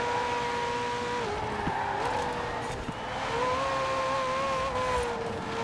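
Supercars racing in Forza Horizon 4, among them a Ferrari, a McLaren, a Porsche GT2 RS and a Corvette ZR1, with a steady high engine whine that shifts pitch through gear changes, loud and close, with no talking.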